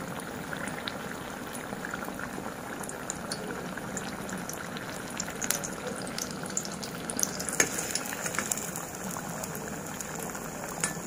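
Stuffed mirchi pakoda chillies fry in hot oil, giving a steady, close, bubbling sizzle with fine crackles throughout and no talking.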